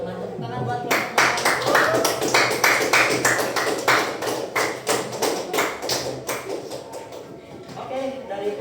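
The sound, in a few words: classroom clapping for a student group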